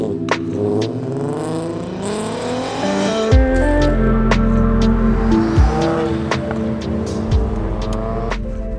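Volkswagen Golf R engine and exhaust while driving, a steady close drone with rising and falling revs and a few deep bursts as the throttle changes, no talk over it.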